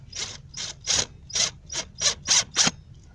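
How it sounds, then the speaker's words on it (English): A drill or driver runs in eight short, evenly spaced bursts, each a sharp ratcheting whir with brief gaps between, as screws go in to hold a wooden support under a van's bed platform. "add a few screws to keep it in place"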